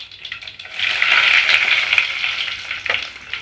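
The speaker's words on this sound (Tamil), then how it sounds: "வரமிளகாய் சேர்த்துப்போம்." Dried red chillies drop into hot oil already holding mustard seeds, urad dal and cumin for a dal sambar tempering, giving a close, continuous crackling sizzle that swells and then settles over a few seconds.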